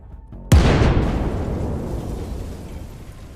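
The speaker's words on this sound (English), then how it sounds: "massive explosions could be seen lighting up the area." A single massive missile-strike explosion on a command center in the war in Ukraine booms suddenly, a deep broadband blast followed by a long rumbling decay that fades slowly over a few seconds.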